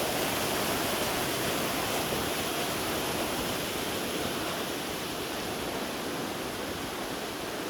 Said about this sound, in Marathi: इकडे छोटी एक झरणा मिळते आपल्याला